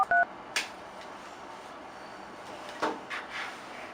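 A telephone number being dialed: a few short keypad tones right at the start, then faint soft handling clicks in a quiet room.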